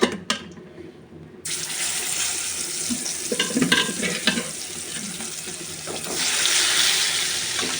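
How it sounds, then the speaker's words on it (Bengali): Turmeric-, chilli- and lemon-marinated tilapia fish pieces fry in oil with a steady close sizzle, broken by a few splashy crackles and scraping clatters as pieces are added and turned. "এবার আমি আর এই দুই পিসও ভেজে নেব।"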